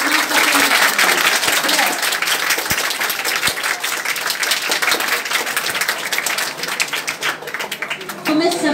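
An audience at a Teacher's Day celebration applauds its teachers with sustained clapping from many hands, thinning slightly toward the end, while a voice speaks over it.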